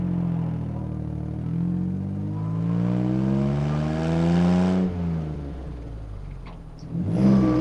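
Jaguar XK150 sports car accelerating hard through the gears, engine note rising in a strong sweep, dropping briefly at a shift near five seconds, then climbing again, heard close from inside the car.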